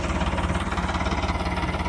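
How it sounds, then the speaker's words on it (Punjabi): A steady tractor engine idles with a low, even rumble and rhythmic throb at a cricket pitch being built, fairly close and continuous throughout, with no voices. "ਲੋ ਜੀ ਹੁਣ ਆ ਗਿਆ ਟਰੈਕਟਰ"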